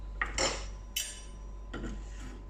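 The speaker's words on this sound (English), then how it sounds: "run my knife down the back of the bone, and look how easy it comes off" A chef's knife scraped along the back of the bone on a cooked fillet steak: a few short, close rasping strokes, metal against bone, with quiet pauses between them.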